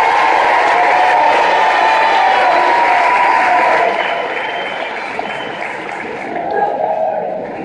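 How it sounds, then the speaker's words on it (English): A commencement audience bursts into loud applause and cheering for families and supporters, a thick continuous wash of clapping and shouts that holds strong for several seconds and then eases to a softer crowd murmur. "give your family and supporters a round of applause for helping you get to this point."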